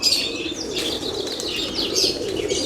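Pigeons in a loft, Teddy, Dubwale and Siyalkoti breeds, coo and chirp close by with soft repeated calls, mixed with brief wing flutters.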